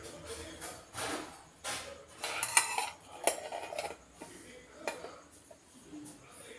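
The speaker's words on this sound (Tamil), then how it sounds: "இப்போ துணியை அப்படியே ஒரு மூடி எடுத்து அப்படியே மூடி வச்சிடுறேன்" A lid set down over a bowl of soaked green gram, giving several light clinks and taps of kitchenware spread through the moment, with soft handling noises between them.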